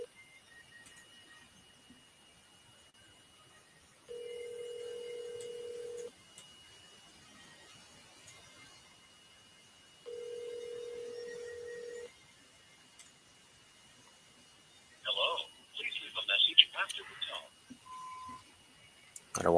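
An outgoing phone call rings back through the line, two long, even tones several seconds apart in an otherwise quiet stretch, followed by brief chirpy beeps and a short tone near the end.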